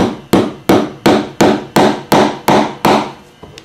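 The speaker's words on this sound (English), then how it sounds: "Then I'm going to take a 12-ounce barbed tack and drive it right along this webbing." Ten sharp hammer blows drive 12-ounce barbed upholstery tacks into webbing, struck at an even, brisk rhythm, each blow a loud close crack with a short ringing decay, and no voices.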